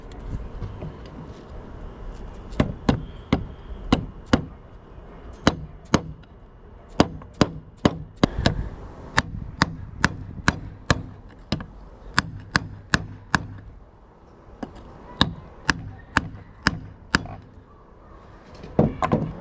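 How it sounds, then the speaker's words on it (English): A rubber mallet strikes a 5/8 socket to drive a bearing into a Kawasaki KX125 water pump, giving a long run of sharp knocks, close and loud, in quick uneven bursts with short pauses between them. "I'm going to use a 5/8 socket and a rubber mallet to press this in there."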